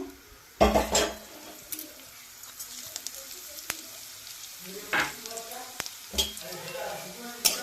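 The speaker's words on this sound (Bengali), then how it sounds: "জিরা লঙ্কাটা একদম ভালো করে ভেজে নেব" Dried red chilli pieces and whole cumin seeds fry in hot oil with a low crackling sizzle, while close scrapes and clinks of a utensil against the pan come in irregular bursts.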